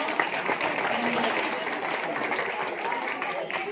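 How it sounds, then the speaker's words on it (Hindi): Sustained, dense applause from an audience honouring the organiser of a stage play about a spiritual teacher's life, steady and close with a faint voice briefly surfacing beneath the clapping. "तो एक बार उसके लिए जोरदार तालियां"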